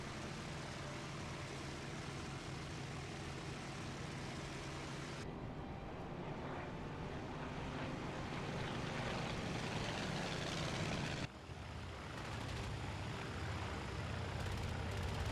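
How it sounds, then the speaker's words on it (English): A lone World War II Focke-Wulf fighter plane taking off, its engine a steady, loud droning roar that holds throughout with a brief dip near the end, no voices present. "a lone Focke-Wulf takes off"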